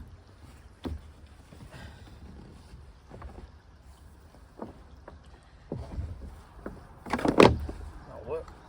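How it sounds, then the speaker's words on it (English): A canoe is dragged up a steep riverbank in a few scraping, thudding bursts, with a louder rough haul near the end, outdoors under wind noise and some speech. "Only thing left to do is get the boat back up the bank, which, as I said, is a lot steeper than it looks"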